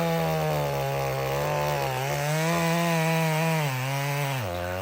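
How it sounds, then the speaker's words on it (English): A chainsaw bucking a felled tree drones loud and close, its engine pitch sagging and rising as the chain bites into the timber, running continuously without speech. "the first thing I like to do when I start bucking a tree is I like to clean the butt up"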